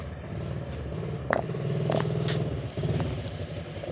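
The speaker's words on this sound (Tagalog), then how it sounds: "Ang ingay talaga ng motor, bre." A nearby motorcycle engine runs with a steady low rumble and a few sharp revving bursts and clanks on top, fairly loud and continuous.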